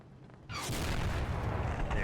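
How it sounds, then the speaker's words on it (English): In the Hell Let Loose war game, a tank's ammunition cooks off with a sudden loud burst that becomes a sustained crackling, roaring fizz of popping rounds, close and continuous after a quieter opening. "You can hear the Roman candle there. The ammo's starting to cook off."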